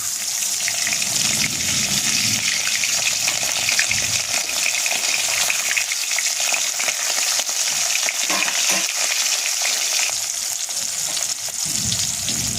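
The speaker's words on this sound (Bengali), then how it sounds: "এরপর এই তেলটা গরম হয়ে গেছে, এরপর আমি একটা একটা করে ভেজে নেব" Pomfret fish, rubbed with salt and turmeric, frying in hot oil: a steady, close, dense crackling sizzle that runs unbroken throughout, with faint stirring and spatter, and no voices.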